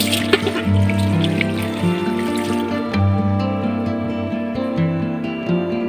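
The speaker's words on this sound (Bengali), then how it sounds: "আমি এর সঙ্গে সামান্য পরিমাণে পানি দিয়ে দিচ্ছি" Water is poured into a pan of fish frying in oil for Bogura-style fish pulao, a close, continuous trickling splash that settles into softer bubbling after a few seconds, with no talk.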